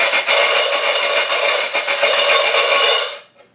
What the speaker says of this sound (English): This one has pennies inside.